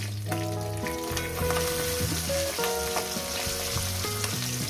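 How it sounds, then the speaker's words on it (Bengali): Bata fish sizzle steadily in hot oil in a pan while being flipped, a continuous close crackle with scattered clinks and overlaid tonal hum, no voices. "আমার এক পিঠ ভাজা হয়ে গেছে, আর অপর সাইডটা আমি উল্টে দিব"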